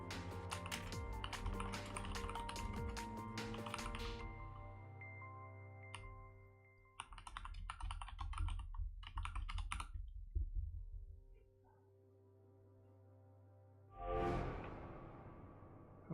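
Keys clatter on a computer keyboard during play of the hacking game Hacknet, quick bursts of typing over a steady electronic music bed, pausing midway and then resuming in a short flurry before a brighter tone swells at the end.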